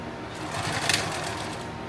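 A sewing machine runs through a continuous stitching pass along the inner seam of a plate carrier bag, its rapid needle chatter swelling briefly in the middle and heard up close without talk.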